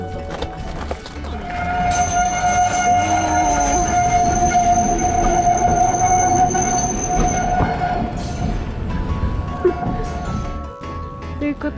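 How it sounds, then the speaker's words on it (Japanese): A train passes near the Kimono Forest in Arashiyama, Kyoto, rising to a loud rolling rumble with a sustained tonal whine and wheel squeal, then fading away toward the end. "あ、電車来た。"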